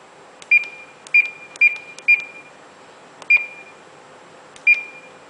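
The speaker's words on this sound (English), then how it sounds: "Depth alarm. The alarm sounds when the depth is higher or lower than the preset depth." A ship's bridge GPS depth alarm gives sharp, high electronic beeps, six short chirps at irregular intervals over a quiet background.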